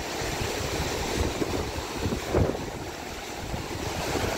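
The Bhagirathi river rushes along the Gomukh trek in the Himalayas, a continuous broad roar of turbulent water with some wind.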